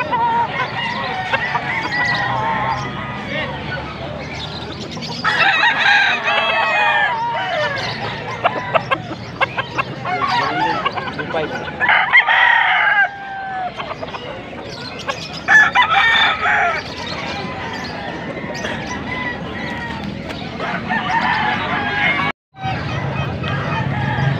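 Chickens and roosters at a busy poultry market in Angeles, Pampanga, crowing repeatedly and clucking close by over a steady crowd babble, with people talking throughout.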